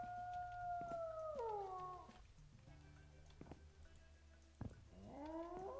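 A wolf in a video game gives two long, falling howls, the first early and the second near the end, with soft thuds and game ambience in between.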